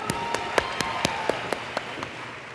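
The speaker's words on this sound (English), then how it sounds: "Round of applause for Curtis," A small audience gives Curtis a quick round of applause: a sparse, steady run of separate hand claps, fairly faint and a little distant, with no talking over it.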